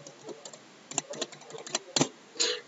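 A password is typed on a computer keyboard, quiet scattered key clicks at close range with a louder cluster of presses near the end.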